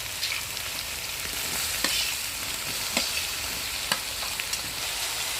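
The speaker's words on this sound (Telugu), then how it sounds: "ఇప్పుడు టమాటాలు వేసుకుందాం." Tomatoes go into an onion-garlic paste masala frying in a pan for fish curry, giving a steady close sizzle with a few faint stirring clicks and no voices.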